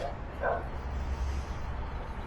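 A South African Mastiff named Bane, a big male dog in protection training, gives a single short bark or yelp over a steady low background rumble.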